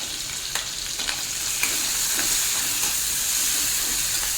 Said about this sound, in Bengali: গরম তেলের মধ্যে দিয়ে দেবো আমি পেঁয়াজ কুচি আর দেবো একটু কাঁচা লঙ্কা